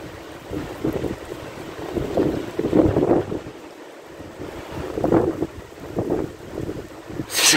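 Violent mistral windstorm gusting to 110 km/h in Saint-Rémy-de-Provence, roaring and buffeting a nearby microphone in surging waves, with no voices.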